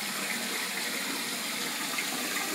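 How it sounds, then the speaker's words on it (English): A toilet flushing on a homemade pull-string flush rig, a steady broadband rush of water running evenly and fairly close throughout, with no speech. "The toilet should flush."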